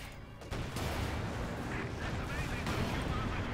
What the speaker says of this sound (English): Finally get a penetrating hit in.